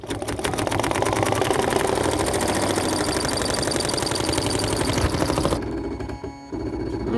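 A BERNINA embroidery machine stitches in-the-hoop coasters with a steady, fast, close mechanical whir and needle chatter, then stops abruptly near the end, leaving a faint hum.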